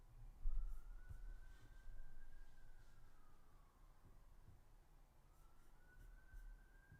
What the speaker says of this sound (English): I hear them sirens.